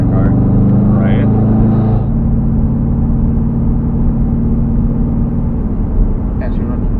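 A Subaru Legacy GT engine idles steadily with a low, even drone, close and fairly loud, under intermittent voices.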